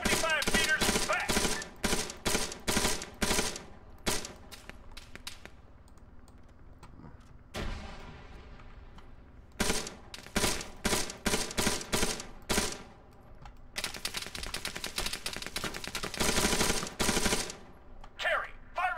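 Soldiers in the military game Arma exchange gunfire: loud bursts of rapid automatic fire and single shots come in clusters with short pauses between, plus a quieter stretch near the middle.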